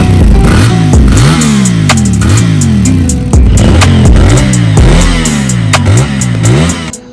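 Cfmoto CLC 450 motorcycle's engine revving repeatedly in close, loud blips, each rise in pitch followed by a drop back to idle, with mechanical clatter between revs.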